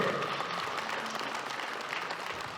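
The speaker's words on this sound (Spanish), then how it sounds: "Los aplausos para los padrinos, fuerte." A wedding crowd claps loudly and continuously for the godparents, a dense burst of applause that fades slightly toward the end.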